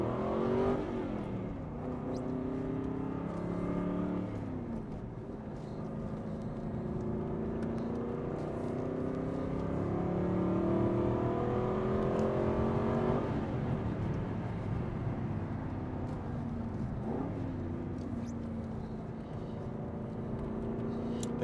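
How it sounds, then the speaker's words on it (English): A 2014 Aston Martin V8 Vantage in sport mode, heard from inside the cabin as the engine and exhaust rise through the revs in repeated climbing pulls, with a steady loud drone and brief drops at the shifts. "It adjusts the rev curve, it adjusts the power band, and the exhaust sounds that much better."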